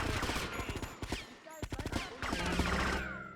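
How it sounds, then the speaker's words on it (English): Sniper rifle shots in GTA: Vice City crack out loud and close, several sharp reports with dense gunfire and game action around them, without any talk. "Oh, better sniper rifle."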